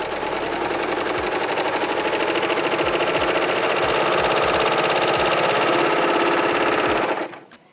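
A serger sewing machine runs fast and steadily while stitching and hemming fabric, a dense mechanical whir with a rhythmic clatter, close and loud for about seven seconds before cutting off abruptly.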